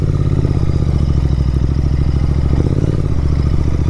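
Royal Enfield Interceptor 650 riding off-road over rocky ground, its engine thumping steadily and loud throughout, with scattered clatter and knocks as rocks strike the underside.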